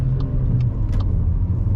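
A car moves off during driving test practice near the Fearnville test centre in Leeds, a steady low engine rumble from inside the vehicle with a few faint clicks above it.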